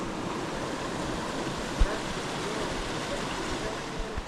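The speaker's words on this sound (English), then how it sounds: "The waterfalls keep getting better." A waterfall at Hanging Lake, Colorado roars as a steady, broad wash of rushing water, close and continuous, with a light thump partway through.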